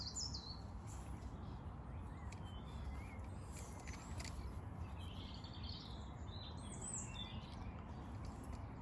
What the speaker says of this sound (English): Real friendly robin here.